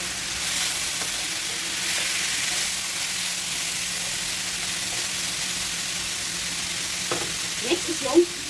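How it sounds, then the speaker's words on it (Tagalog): Cooked rice frying in a pan for a pork caldereta dish, a steady broad sizzle running throughout at close range, with a few light utensil clinks near the end. "I-fry lang natin yung ating kanin mga idol hanggang magiging a little bit brown"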